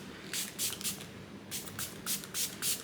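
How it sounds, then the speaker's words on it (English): A Patrick Star Until Dawn mattifying setting spray is pumped in a rapid series of short, crisp misting bursts, close and fairly quiet, with no talking. "now I'm gonna go in with the Patrick Star Until Dawn mattifying setting spray"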